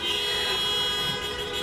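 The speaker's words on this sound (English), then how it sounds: "Yeah, you can honk for me." Car horns sound at a drive-in high school graduation for the class of 2020, a sustained blended honking from several vehicles carrying on steadily over an open outdoor lot.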